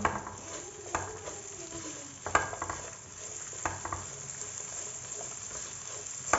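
Grated carrots stirred into hot oil with cumin in a pan for potato kachori filling, a steady sizzle broken by scraping, clinking spoon-on-pan strokes at irregular intervals, close by and without speech.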